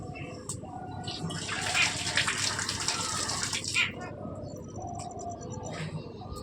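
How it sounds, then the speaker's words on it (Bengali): Water pours steadily over potted plants being watered and rinsed, a continuous splashing gush lasting the whole stretch, close and fairly loud, with a voice speaking faintly underneath at times. "এবার গাছে একটু জল দিয়ে দিই।"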